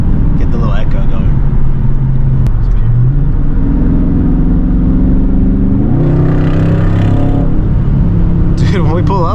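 Straight-piped Scat Pack car rumbling and revving in traffic, a loud, deep, continuous exhaust drone rising and falling in pitch, with voices in the cabin talking over it.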